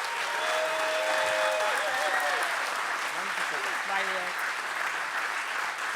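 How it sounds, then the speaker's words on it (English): An audience at a design talk event applauds loudly and steadily for several seconds as a designer takes a seat, with a voice speaking faintly over the clapping. "I want you to give them a really, really loud applause."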